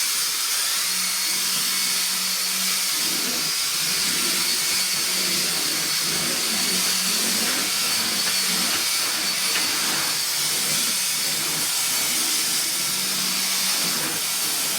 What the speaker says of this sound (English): I gotta vacuum down there